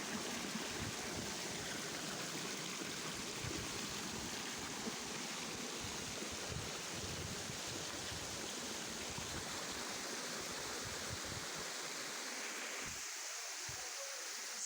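A waterfall at Dereova pours in a steady, broad rush of falling water, constant and fairly even throughout with no voices.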